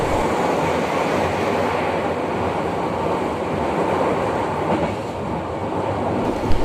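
Steady, loud rumble of a KAI passenger train carriage rolling along rails in a sparsely filled car, with constant broadband wheel-and-track roar and no talk.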